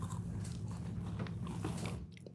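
A Chips Ahoy chocolate chip cookie is bitten and crunched during a blind taste test, giving close, dense crunching over a steady low rumble, with no talk.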